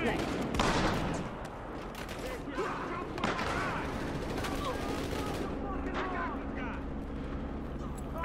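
Gunfire from the video game Battlefield Hardline, a dense, continuous clatter of rapid shots and bursts filling the whole stretch, with voices talking faintly underneath.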